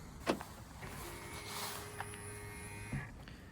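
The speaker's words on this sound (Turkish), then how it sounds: "Aracı kapattığımızı varsayıyorum. Kilitliyorum." BYD Dolphin electric car being locked: a soft click, then a steady whirring motor hum like a mirror folding or window closing, ending with another click, quiet and close.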